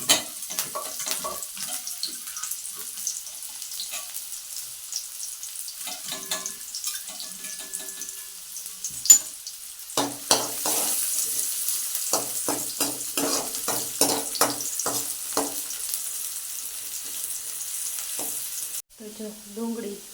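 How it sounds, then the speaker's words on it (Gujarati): Onions sautéing in oil in a pan for masala penne pasta, a soft frying sizzle with intermittent stirring scrapes and clatter, louder in the second half, with a faint watery hiss. "તેલમાં ડુંગળી સાતળવાની છે."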